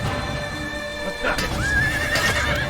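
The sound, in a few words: horse neighing in the video game Assassin's Creed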